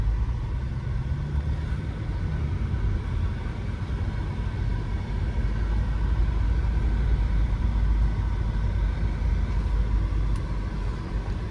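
A 1978 Chevy pickup engine runs with a steady, loud low rumble, held at a constant level close by for the whole stretch with no clear rise in revs and no talking.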